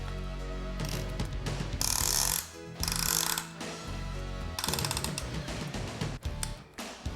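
A hand ratchet tightens a piston ring compressor on an engine block with rapid metallic clicking in several bursts separated by brief pauses, close and loud.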